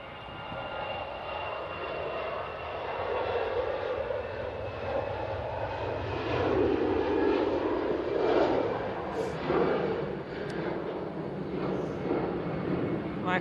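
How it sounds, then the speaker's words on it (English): An EasyJet Airbus A320 departing Manchester for Belfast gives a steady jet rumble that swells gradually in the middle and then eases slightly, with faint speech underneath. "EasyJet after Belfast. It's an A320."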